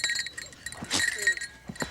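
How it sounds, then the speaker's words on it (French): A goat in a children's TV programme gives a few short, soft bleats amid faint background noise, with a broader burst near the middle of the stretch. "La chèvre chevrotte dans sa barbichette."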